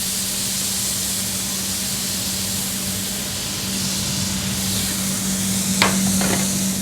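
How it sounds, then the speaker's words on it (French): Duck breast sears skin-side down in a pan with spices and honey, giving a continuous close sizzle and crackle, with a low steady hum underneath and a couple of brief sharp clicks near the end. "Le magret, en fait, il est en train de légèrement rôtir sur la peau"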